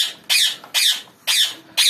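Small pet budgerigars give four sharp, evenly spaced squawks at close range, each a short, shrill burst separated by brief silences.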